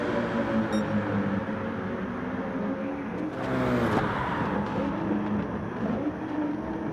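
A race car engine in a video game at Daytona, a steady droning hum that swells briefly into a louder passing rush midway before settling back to a constant tone.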